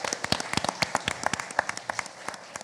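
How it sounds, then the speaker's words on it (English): Audience applause at a healthcare event, a crowd clapping at moderate distance in a dense, steady patter of many hands, with a few sharper individual claps standing out. "Let's give them another round of applause."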